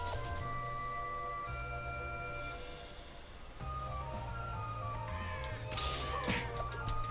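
Crows caw in Touhou: Scarlet Curiosity, short harsh calls rising over a continuous game music track, with a busier cluster of cries toward the end.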